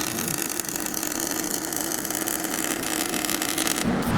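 A welder runs a first bead on a Chrysler 300 differential, giving a steady close crackling hiss with a low mechanical hum underneath, no talking.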